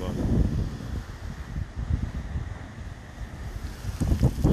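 Waves wash onto the shore of Lake Michigan with a continuous low churn. Heavy wind buffets the microphone, and the surge builds again near the end.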